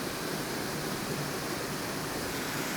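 Steady broadband rush of a low waterfall in Johannesburg, polluted with garbage, pouring continuously at close range with no talk over it.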